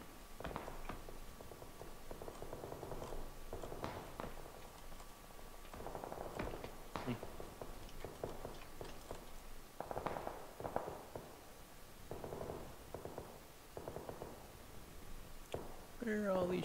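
Scattered gunshots crack in a video game firefight, faint and distant-sounding pops arriving in irregular clusters across the stretch, with people talking over them.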